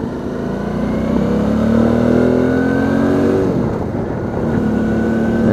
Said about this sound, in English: This bike does back roads pretty well, does highway pretty well.